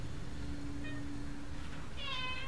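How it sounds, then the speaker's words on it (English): A cat meows from next door near a greenhouse, two faint short calls, the second clearer, over a steady outdoor hum. "You can hear a meowing"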